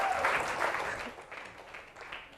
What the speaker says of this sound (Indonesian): tepuk tangan buat Farid.